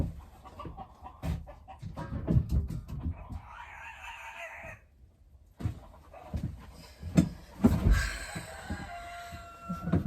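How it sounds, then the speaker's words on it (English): Fighting roosters squawk and cluck in agitated, irregular bursts with flapping scuffles, some harsh cries loud and close, others overlapping in a noisy clamor. "Those are roosters trying to fight each other."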